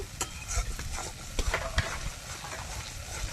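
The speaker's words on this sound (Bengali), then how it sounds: "এবার কাজু বাদামের সাথে ভালো করে মশলাটা কষিয়ে নেবো একটু।" Spice paste mixed with ground cashew paste being stir-fried for a pointal (pointed gourd) curry, a steady low sizzle broken by several sharp spatula scrapes against the pan, close and fairly quiet throughout.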